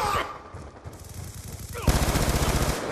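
Rapid automatic gunfire in Call of Duty Black Ops 2 online multiplayer, sporadic bursts early then a sustained loud rattling volley in the second half, with game voices mixed in.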